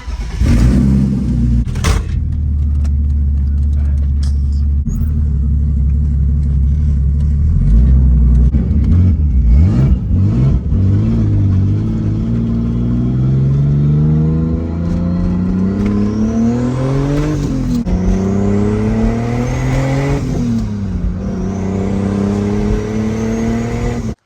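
A turbocharged BMW Z3 on its first test drive, engine heard from inside as it revs and accelerates through several gears, each pull rising in pitch before a shift, loud and continuous.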